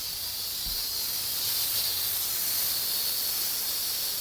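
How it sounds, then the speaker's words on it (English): An Instant Pot pressure cooker full of beans vents steam in a steady, high, breathy hiss that holds constant throughout, close by and alone. "I don't know if y'all saw the steam come up out of there."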